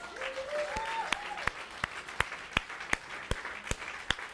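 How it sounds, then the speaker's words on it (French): Congregation applauding in a church, with distinct, fairly regular sharp claps standing out above a soft background murmur and faint tones. "On peut-tu donner une main d'applaudissement au Seigneur?"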